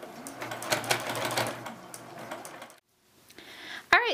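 A sewing machine back stitches over the binding of a small quilted tic-tac-toe game, a close, busy run of rapid needle stitching that stops abruptly, followed by a short quiet pause and a few softer handling sounds.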